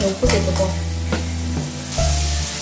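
Onions and tomatoes sautéing in a pan as the base for a chicken gravy, loud close sizzling broken by a few sharp scrapes and knocks of a utensil.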